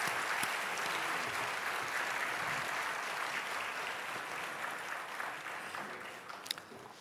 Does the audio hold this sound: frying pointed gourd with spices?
no